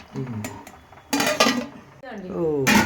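A metal lid is set onto a pot of rice cooking for paneer dum biryani, giving a few clattering knocks and clinks of cookware, close by and mixed with a speaking voice.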